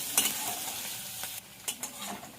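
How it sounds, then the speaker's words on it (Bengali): Chopped onions and green chilli frying in hot mustard oil, a soft continuous sizzle broken by a few scraping stirs of the spatula, close and fairly quiet with no talk. "পেঁয়াজটা একটু ভাজা ভাজা করে নেবো"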